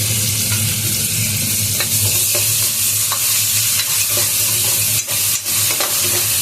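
Onion and chili paste frying and being stirred in a pot for mutton biryani, a steady close sizzle with scraping spoon strokes throughout.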